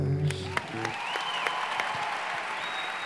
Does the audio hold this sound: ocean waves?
no